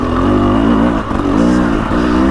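A Husqvarna TX300 dirt bike revs loud and close, its engine note rising and falling with a short dip midway as the rider works the throttle.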